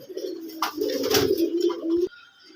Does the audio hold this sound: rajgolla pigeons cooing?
yes